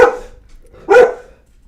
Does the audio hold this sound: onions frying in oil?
no